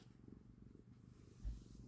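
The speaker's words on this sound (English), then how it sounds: "There, just purr right into the microphone." Cat purring up close, a soft, rhythmic low rumble pulsing steadily, with a brief thump near the end.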